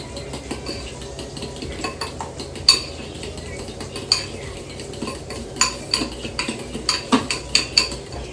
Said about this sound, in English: I'm just going to go ahead and whisk this together